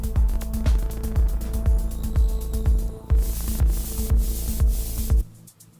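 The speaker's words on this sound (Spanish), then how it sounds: "he puesto un shaker al final" A shaker plays in a music production track, a steady rhythmic series of crisp rattling strokes over a low repeating beat, loud and close, stopping abruptly near the end.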